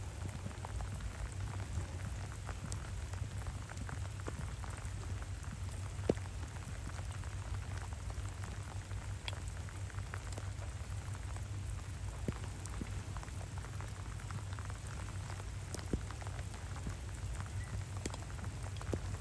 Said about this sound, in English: I was not enjoying this rain.